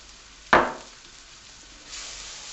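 Chili powder and spices drop into hot oil with a sudden loud sizzle that fades to a steady soft frying hiss, then swells slightly again near the end.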